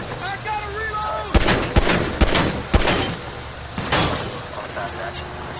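Gunfire in GTA Online: a handful of sharp, loud shots spaced irregularly over a few seconds, mixed with game noise while a voice talks over it.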